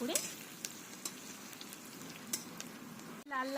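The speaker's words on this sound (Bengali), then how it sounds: "আমি পেঁয়াজটাকে একটু ভেজে দেবো" Onions frying in a pan, a soft, fairly faint sizzle under a few light clicks and scrapes of a utensil, with a short break near the end.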